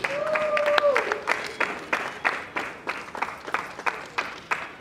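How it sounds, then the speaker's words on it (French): An audience at a civil wedding ceremony applauds the civil registrar: dense, steady clapping that settles into rhythmic bursts, with a brief tonal note and scattered voices early on. "Acclamons l'officier de l'état civil."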